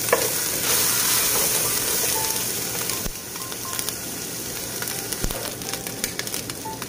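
Garlic sizzles in hot oil in a pan for bupis, a steady close hiss with a few crackles. Occasional utensil knocks sound against the pan, with no talking.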